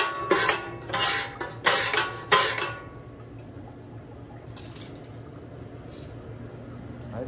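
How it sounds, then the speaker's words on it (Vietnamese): A metal spoon scrapes out the bottom of a deep fryer during an oil change, four loud clattering bursts of metal on metal in quick succession, then quieter scraping and faint clinks against a low background hum. "Còn cái này nó ở phía cuối thì mình sẽ dùng cái muỗng để mình cạo"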